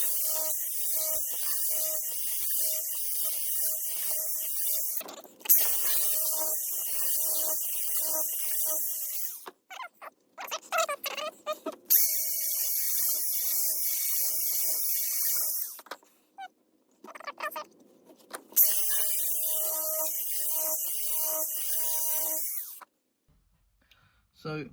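A Jenson A 518 blade being sharpened by sanding, a steady abrasive whirring hiss in long continuous runs broken by short pauses and handling clatter.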